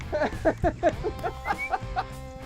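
A rooster pheasant cackles in a rapid series of harsh, repeated calls, fairly close, with faint outdoor background.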